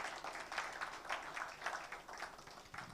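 Faint, distant audience applause at a book launch: a rippling wash of many hands clapping that swells and fades in uneven waves.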